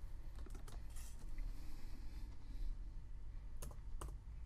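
Typing on a computer keyboard during work in embroidery design software, with scattered quick key clicks over a steady background hum, moderately close and fairly faint.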